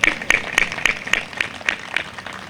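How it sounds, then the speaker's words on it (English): An audience at an International Overdose Awareness Day event in Mercer County claps in a steady, sparse rhythm of distinct hand claps, moderately loud and close. "you can clap for them"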